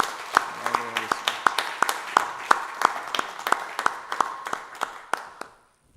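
An audience at a book launch claps in unison to welcome a guest of honour, about a dozen sharp, evenly spaced claps in a steady rhythm that stop abruptly.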